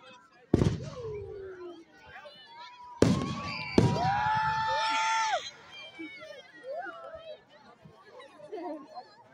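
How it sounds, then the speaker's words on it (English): Fireworks boom in sharp bursts, with a loud crackling cluster midway, while a crowd chatters and cheers in the background and whistling tones rise and fall. "Just watch the fireworks."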